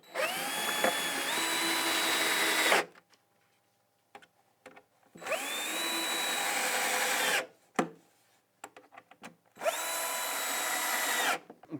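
A power drill drives screws into a wooden DIY dry toilet in three sustained bursts, each winding up to full speed and stopping abruptly, with quiet tool handling and clicks in the gaps.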